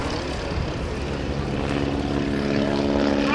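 An aerobatic propeller plane flown by John Mohr at the 2010 New Garden Airshow drones steadily in the distance, its engine note climbing in pitch near the end.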